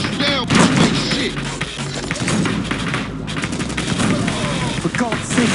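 Dense gunfire from the Ballistic Weapons mod in Unreal Tournament 2004 team deathmatch, rapid overlapping shots and thuds running continuously, loud and busy, with voices and game chatter mixed in.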